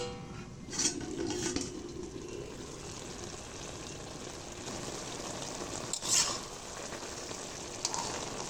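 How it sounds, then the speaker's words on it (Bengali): A lidded pan of shrimp and water lily simmering on the stove, with a steady soft sizzle throughout and a couple of brief metallic clinks as the lid comes off; no voices. "2 মিনিট হয়ে গেছে, এবার আমি ঢাকনাটা খুলে নেব"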